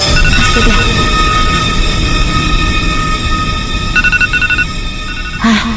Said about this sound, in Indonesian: suara dering alarm di handphoneku